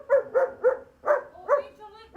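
A dog barks in a quick run of several close, loud barks, a short pause, then more barks with a whimpering, yipping edge; the dog is young, still growing, and appears in good condition.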